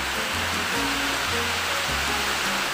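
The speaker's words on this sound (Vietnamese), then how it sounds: "Vì trời mưa khá là to, rất mong các bạn thông cảm." Heavy rain pouring steadily outside a home workspace, a loud dense hiss filling the whole stretch without pause, with low thumps and hum beneath.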